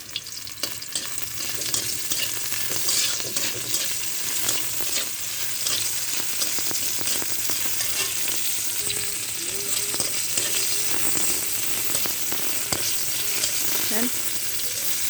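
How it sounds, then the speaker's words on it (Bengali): Bitter gourd frying in oil with a little salt sizzles and crackles steadily and loudly throughout, with occasional stirring clinks; no talk. "আগে উচ্ছেটা আমি ভেজে নেব হালকা একটু লবণ দেবো"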